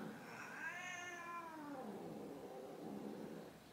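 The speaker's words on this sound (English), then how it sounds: "My cats fight all the time." A house cat lets out a long, wavering caterwaul that slides downward, a drawn-out yowl during a fight between domestic cats, heard fairly faint and alone in a quiet room.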